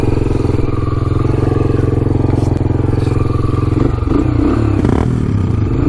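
Honda TRX 300EX ATV being ridden, its engine droning loud and close at steady revs, then rising and dipping with throttle changes near the end, with some rattling clatter.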